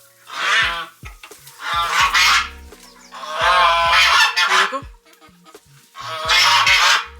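Farm fowl in a rural enclosure give loud, close honking calls in four separate bursts, with brief quieter pauses between them.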